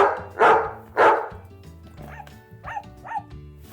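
Dogs bark indoors while playing, with two loud close barks followed by several quieter yips and whimpers over a steady low hum from a running vacuum cleaner.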